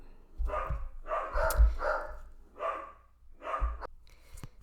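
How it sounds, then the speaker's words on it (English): Several dogs bark in a rough, repeated rhythm of about five bursts, fairly close, with breathy pauses between volleys. "I don't know why they're barking, but I apologize."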